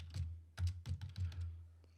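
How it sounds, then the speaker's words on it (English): Typing on a computer keyboard, a handful of soft, close key taps in a short uneven run, quiet and without speech. "So I'm going to type in essential oils."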